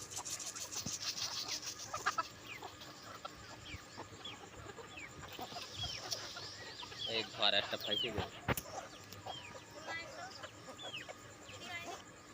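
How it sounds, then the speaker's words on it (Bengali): Chickens at feeding time cluck and call repeatedly at close range, busy overlapping fowl sounds with a few sharper squawks and some background noise. "তো এদিকে মুরগির খাবার দিতে চলে আসলো।"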